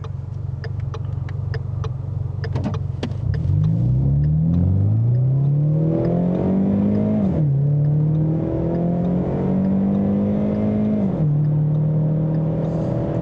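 A Ford Mustang 2.3 EcoBoost launches hard from a standstill. Its engine note climbs steadily through the gears, with clear shift drops, heard loud from inside the car and without speech.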